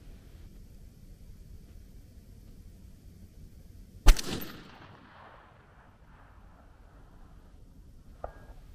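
A single loud, sharp crack from a .22 DPC wildcat AR-15 rifle fired at a target about 1,014 yards away, with a reverberant decaying tail, then a faint distant thump a few seconds later, over low outdoor background.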